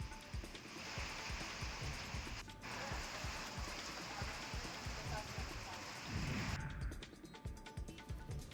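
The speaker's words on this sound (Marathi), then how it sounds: "विजांच्या कडकडाटासह ढगांचा गडगडाट पाहायला मिळालाय." Heavy unseasonal rain pours steadily in a dense, continuous hiss, with a possible distant rumble of thunder beneath it and no pause throughout.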